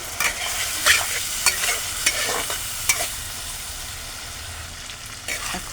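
Water poured into a frying pan of onion with ground coriander and cumin for a Bengali prawn kalia, sizzling steadily while a spoon scrapes and stirs in sharp, repeated clinks, close and alone without talk.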